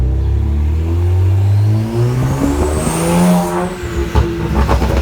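A car engine fitted with 19T turbos revs loudly and close by, its pitch rising and falling as the turbos whistle and spool up, with no voices.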